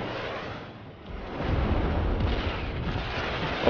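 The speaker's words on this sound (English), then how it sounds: "these missiles are just absolutely insane" Missiles launch in Just Cause 3 during an assault on a huge base in a sea heist, a sustained roaring rumble of fire and blasts swelling after a brief lull, loud and close, with no talk.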